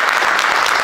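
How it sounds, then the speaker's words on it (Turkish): Audience applause, a dense wash of clapping heard in a very brief, steady and loud burst. "Alkışlayalım. Genç arkadaşlarımız."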